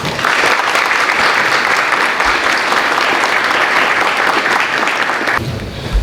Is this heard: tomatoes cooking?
no